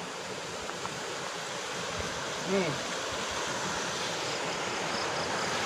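Water flowing in a river at a boundary area, a steady broad rush filling the whole clip with a brief voice partway through.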